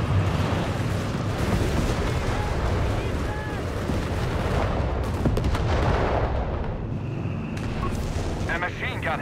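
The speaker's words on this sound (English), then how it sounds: "And there go just artillery fire, decimating the German rear line." Howitzer artillery barrages pound a rear line in Company of Heroes 3, a dense rolling rumble of distant booms and impacts under a commentator's ongoing speech, continuous throughout.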